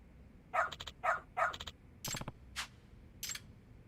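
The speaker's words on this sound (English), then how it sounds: "Good dog. Very good dog." A dog in the video game Lost Judgment gives a quick run of short, clipped barks followed by a few sharper yips, fairly close and clear with no talking over them.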